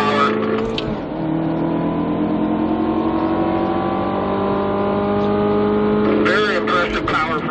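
A stock 2017 Chevrolet Camaro 2LT with the turbocharged four-cylinder runs at full power around the Spring Mountain Motorsports Ranch track, its engine a loud, continuous drone that climbs steadily in pitch, broken by brief shifts near the start and end.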